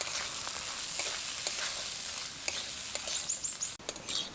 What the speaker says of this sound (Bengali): চালটাকে এবার খুব ভালোভাবে ভেজে নেব।